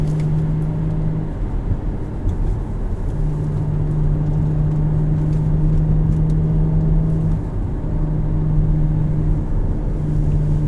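Steady engine drone from a 2019 Audi S4 Premium Plus with S Sport Pack and sport rear differential while driving, a constant low hum with road noise, holding even for several seconds with slight shifts.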